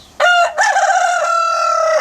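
A rooster crows loudly and close by in two bursts: a short opening note, a brief break, then a long, drawn-out crow that holds to the end.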